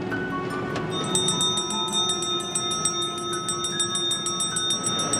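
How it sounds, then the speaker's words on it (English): A bus stop bell rings inside a bus as a bright repeated chime over a steady engine and road rumble, fairly close. "You'll notice that the bus driver has stopped exactly where you rang the bell."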